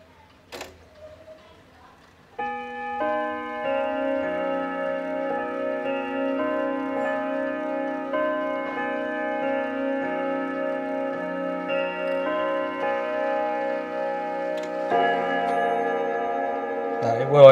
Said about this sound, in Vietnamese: Để em thử qua cái tiếng chuông cho các bác nghe luôn nhá.